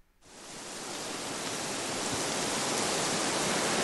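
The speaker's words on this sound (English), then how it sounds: "Wind and trees." Ambient wind-and-trees sound played from a smart speaker: a steady, broad rushing hiss that swells in after a brief silence and holds evenly, with no voices.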